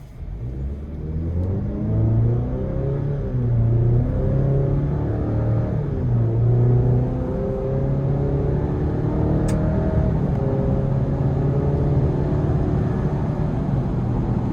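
A 2026 Chevrolet Colorado ZR2 pickup builds speed onto the interstate, its engine note climbing through gear changes in a loud, close cabin drone that rises and settles over about fifteen seconds.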